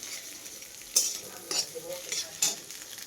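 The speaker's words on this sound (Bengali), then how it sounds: "ডিমটা ভাজছি" Steady hiss of an egg frying in a pan with a few scraping stirs and clinks, close up, no talking.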